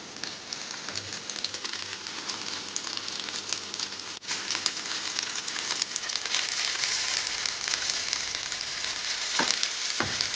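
Paneer pieces roast in a pan. A steady, close hiss and crackle of sizzling oil runs throughout with fine popping, swelling slightly louder toward the end.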